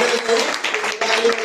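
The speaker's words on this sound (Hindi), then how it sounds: "उस खुदा के लिए तालियां बजाएं" A congregation at a Christmas program applauds with dense, steady clapping that holds at an even level for the whole moment.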